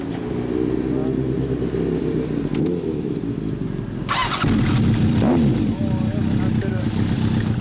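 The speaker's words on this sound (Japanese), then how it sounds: "マフラーのエンジンを聞かせてもらえるかな。" A 1982 Kawasaki Z1000R2 motorcycle engine idles and revs through its exhaust at close range, a steady rumble with a brief throttle blip partway through.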